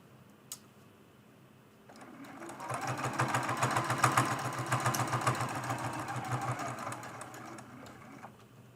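A sewing machine stitches binding on a quilted mug rug, starting after a quiet pause and running in a fast, even rhythm for several seconds before slowing at the end.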